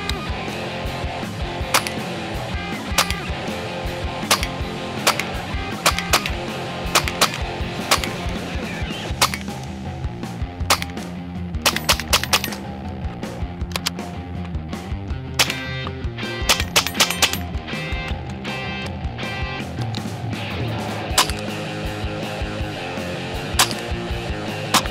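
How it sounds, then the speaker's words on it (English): A .22 LR GSG AK-47 rifle fires at steel targets, a long run of sharp, fairly close shots at an irregular pace over a steady background, with some shots clustered in quick bursts. "Let's shoot some targets."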